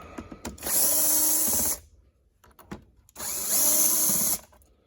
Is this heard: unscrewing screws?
yes